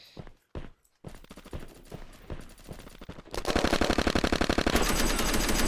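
Gunfire in the shooter game Red Crucible Firestorm: a few sparse shots with short gaps, then a sustained loud burst of rapid automatic fire that keeps going to the end.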